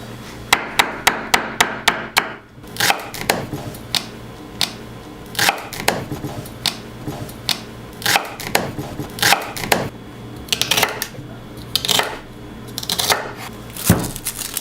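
A knife chops celery into thick pieces on a cutting board for brisket, a rapid run of sharp close knocks at first, then slower, uneven chops continuing to the end.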